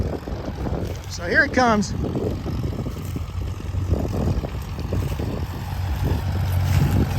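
A tractor pulling a plow through a field at a plow day gives off a low, steady engine drone while someone talks over it close by.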